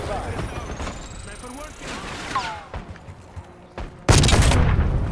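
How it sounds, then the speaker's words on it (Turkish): A sudden loud mine explosion erupts near the end of a stretch of busy Call of Duty: Black Ops 6 multiplayer game noise, with scattered distant booms before it. "Evet, mayında patladı."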